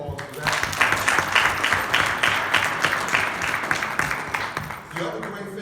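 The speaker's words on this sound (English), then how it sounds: "let's give ourselves a round of applause for that" An audience breaks into sustained, lively applause, many hands clapping in a dense, even wash at close range for several seconds before fading slightly near the end, with voices faintly under it.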